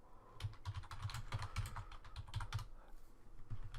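Rapid, even typing on a computer keyboard, a close but quiet run of crisp key clicks with a few brief pauses.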